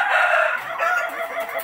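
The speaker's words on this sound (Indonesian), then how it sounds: "Ayam hitam itu loh, ayam cemani." A black Ayam Cemani chicken gives a short, loud, close crowing call that trails off into a raspy, fading tail.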